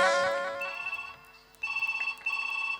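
A telephone rings during a Chhattisgarhi nacha folk theatre performance, giving two bursts of repeated electronic trills after a fading musical note at the start. The ringing is clear and near, with no speech over it.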